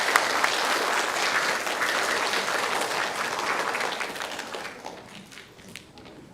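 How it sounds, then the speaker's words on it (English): An audience at a school celebration day claps in a long sustained burst of applause that is loud at first and gradually thins and fades toward the end. "Should we give them another round of applause?"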